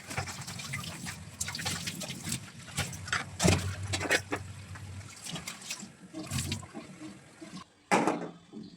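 Running water splashes and trickles while cut potatoes and aubergines are washed by hand, with uneven pours, clatters and sharp bursts, close and fairly loud, no talk.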